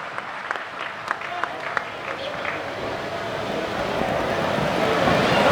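Crowd applause at a Hindi kavi sammelan poetry event, building gradually from scattered claps into a fuller, louder ovation.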